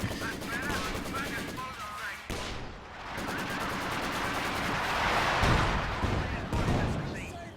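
ZiS artillery and gunfire in the World War II strategy game Company of Heroes 2, heavy repeated shots and booms rolling through a busy battle mix, with commentators talking throughout.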